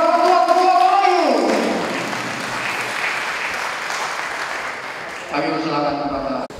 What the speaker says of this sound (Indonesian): Berikan tepuk tangan yang meriah buat Bapak Ketua Melayu.